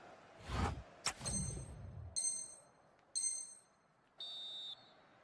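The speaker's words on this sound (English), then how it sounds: "the referee blows the whistle" A referee's whistle in an eFootball match sounds as several short, sharp, high blasts following a couple of whooshing hits, set against quiet game ambience.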